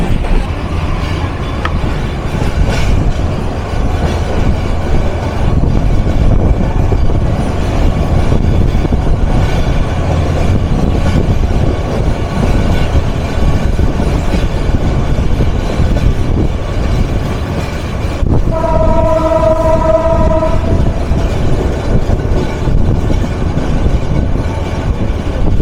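The 798 Kurigram Express running on rails on the Rangpur to Dhaka route, heard from on board as a loud, steady rumble and clatter throughout, with a brief tonal blast partway through.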